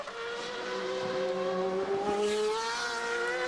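GP2 race cars from the 2006 San Marino round scream past, their high engine notes rising and sliding as they come close, with layered whines from several cars and a faint squeal of tyres.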